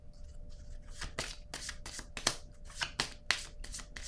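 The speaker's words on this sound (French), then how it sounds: "Je vais piger une autre carte pour cette zone." Tarot cards being handled and drawn from a deck, a series of crisp shuffling slaps and flicks arriving in quick irregular bursts, close and fairly quiet with no talking.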